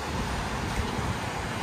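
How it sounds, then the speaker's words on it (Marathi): Sea waves at a beach in front of a sea-facing resort room, heard as a continuous broad, rushing wash at moderate distance, with no distinct breaks or voices. "आणि समुद्राचा तर खळखळ आवाज तर काय बात आहे."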